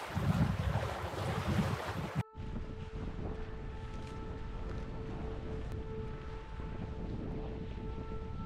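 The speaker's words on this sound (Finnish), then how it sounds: "edelleen tuuli" Strong wind roars across a microphone beside Lake Inarijärvi in the Finnish wilderness, a loud continuous rush with water and waves beneath and a brief break early on.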